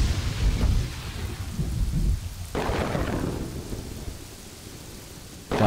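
A thunderstorm in the city-building game Kingdoms and Castles: heavy rain pours steadily while low rumbling thunder rolls, then a sharp crack bursts in midway and another near the end, loud and close.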